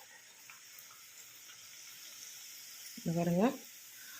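Pappu billalu frying in hot oil over a medium flame, giving a steady soft sizzle throughout, with a brief burst of a voice speaking near the end.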